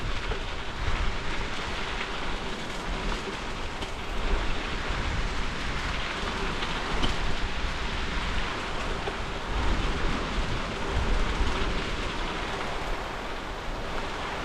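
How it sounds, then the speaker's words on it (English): Rushing river rapids on the Youghiogheny River make a constant, dense roar of churning water, steady and fairly close throughout with no voices. "There's some rapids down there."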